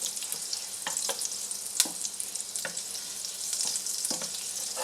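About a tablespoon of butter melts in a pan, giving a steady soft sizzle with a few sharp clicks and scrapes from stirring, close and with no talking.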